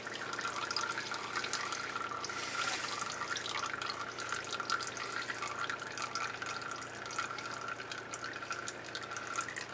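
Motor oil draining from a motorcycle rear end into a pan, a steady close trickle and drip of liquid that runs on without a break.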